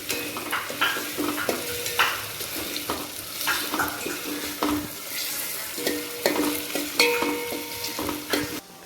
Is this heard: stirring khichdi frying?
yes